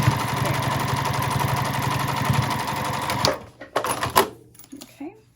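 A domestic sewing machine top stitches vinyl on a small ID wallet made from a Devon pouch, running in a fast, steady rhythmic whir for about three seconds before stopping, followed by scattered handling clicks and rustles.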